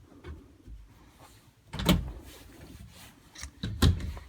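Cabinet door inside a 2019 Coachmen Chaparral 391QSMB fifth-wheel RV opening, with two soft wooden knocks and clunks of the door and hardware, close by in a quiet interior.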